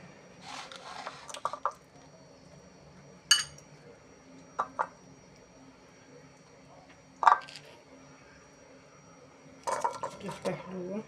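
Soft wet plops and light clinks of a tomato going into a bowl of spices, salt, oil and vinegar, a few scattered kitchen knocks against a quiet room with talk nearby.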